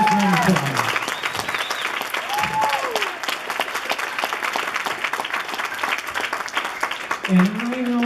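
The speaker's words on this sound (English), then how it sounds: "So can everybody get a nice round of applause?" A family gathering claps in a steady round of applause during a grandparent's speech, a sustained patter of hands with voices and cheers rising at the start and end.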